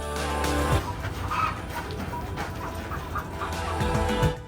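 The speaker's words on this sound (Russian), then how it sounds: "А вот курочки, которые несут золотые яички для своего ранчо." Hens on an ostrich ranch cluck softly and intermittently through a steady outdoor background, with a few short bursts standing out near the start and end.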